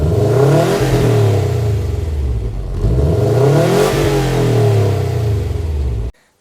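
A Subaru WRX STI engine set to Sport Sharp mode revs hard twice, each loud rising vroom swelling and falling back before cutting off abruptly, close and alone.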